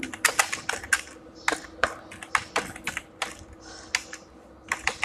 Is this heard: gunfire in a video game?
no